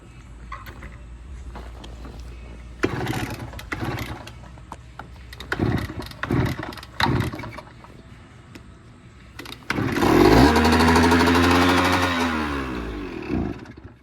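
A 1978 Kawasaki KE100 motorcycle with freshly replaced points gives a few clattering, sputtering attempts, then catches. Its small engine runs loud and close, revving up and settling into a rough idle.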